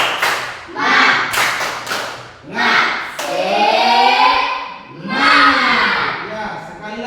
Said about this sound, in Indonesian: Ya, sekali lagi lebih semangat lagi